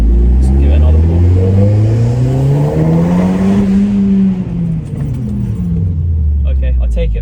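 A methanol-injected, stage 3 tuned 460 bhp Audi S3 engine revs hard through a rising pull, loud and close, building to a peak then easing off; a brief voice sounds near the end.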